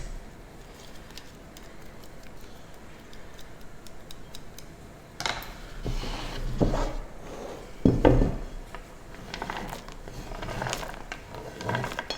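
Muffin batter is stirred with a metal whisk in a bowl, giving a soft run of light ticking taps that turns into louder, busier clattering strokes partway through, close by with no talking.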